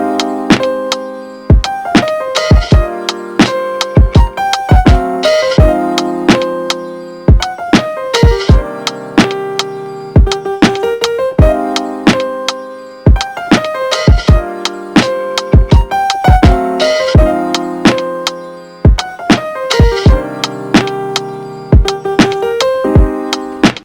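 Lo-fi piano chords with a steady drum beat, a repeating chord progression with punchy kick and snare hits looping continuously and loud throughout, no talking.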